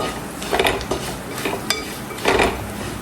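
Turmeric and masala powders are stirred in a cooking pan for a yam and beef fry: a few close, scraping strokes of a utensil against the metal, with a soft sizzle underneath.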